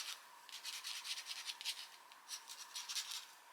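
The new, pointy tip of a Montana marker scratches across sketchbook paper in a series of short, quiet, rapid strokes.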